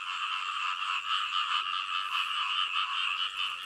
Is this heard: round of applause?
no